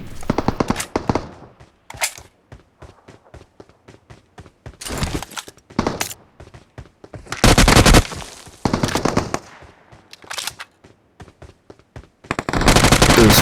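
Rapid bursts of automatic gunfire and single shots in PUBG Mobile on the Rondo map, loud and close, coming in repeated clusters separated by short quiet gaps and the patter of footsteps.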